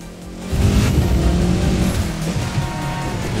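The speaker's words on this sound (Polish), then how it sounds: "Dźwięk to chyba wszystkie samochody brzmią tak samo w tym The Crew." Car engine in the racing game The Crew 2 roaring loudly with broad tire and road noise, surging after a brief quieter start and holding steady for a few seconds with no voices.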